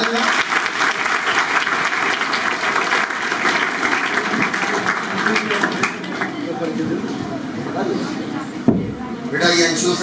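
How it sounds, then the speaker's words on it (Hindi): Students in a coaching institute classroom break into sustained, dense applause that fills the room for about ten seconds, a steady wash of many hands clapping with a brief dip near the end. "ताली बजाओ।"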